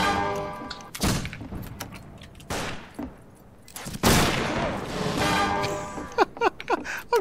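Gunfire in the Western shooter Fistful of Frags: several sharp, loud shots with booming tails, some spaced apart and a rapid burst near the end, close by, with no talk over them.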